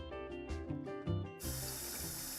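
Tintype photographic plate rinsed under running water, with a few gurgling splashes, then a steady hissing rush of tap water, faint and close.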